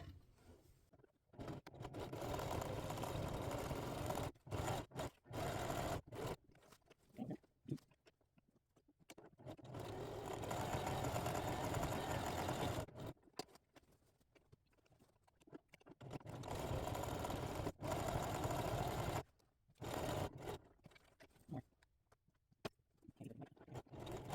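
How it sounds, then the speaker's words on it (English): A sewing machine stitching an 18-inch fabric piece across quilted backpack straps, fairly quiet rapid mechanical chatter running in bursts of several seconds separated by pauses, with no talking. "We're sewing the 18-inch piece across the straps here."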